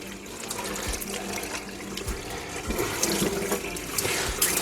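Tap water runs steadily into a sink while salt is rinsed off a homemade cured ham, a continuous close splashing rush with no voices.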